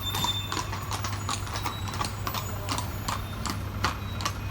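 Horse hooves clip-clop in a steady, even rhythm on the narrow streets of a small Spanish town, fairly close and continuous over a low, constant hum.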